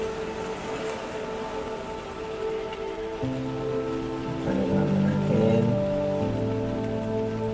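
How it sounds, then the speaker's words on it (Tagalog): Heavy rain pours steadily without pause, a dense wash of drops close by, with a low hum rising in the background partway through. "habang ang buhos ng ulan ay walang tigil"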